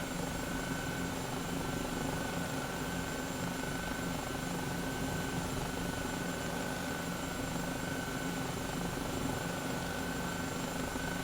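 Helicopter flying in Microsoft Flight Simulator, heard as a constant, dense rotor and turbine drone that holds at an even level throughout, with no voices.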